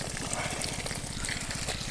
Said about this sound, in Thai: เดี๋ยวเรามาดูน้ำที่ตรง ปลายสายยางกันนะครับ